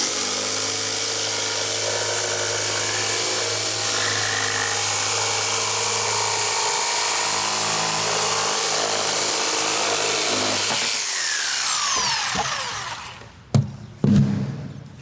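A jigsaw saws steadily through wood for about eleven seconds, a loud continuous buzzing cut that stops abruptly, then winds down, followed by a couple of short knocks.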